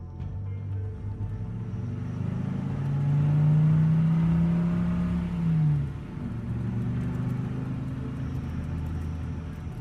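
A car engine starts and revs, swelling to a loud mid-pitched roar near the middle before easing off into a steady rumble as the car drives away.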